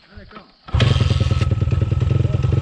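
A YCF 190 pit bike fitted with a new exhaust fires up after a moment of quiet speech, then revs hard and loud right beside the listener with a rapid, pulsing throb.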